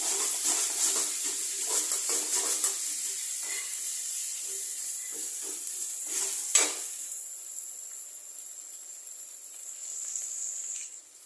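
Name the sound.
sautéing ginger garlic paste in a pan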